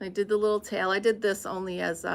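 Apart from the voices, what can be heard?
No everyday noises stand out.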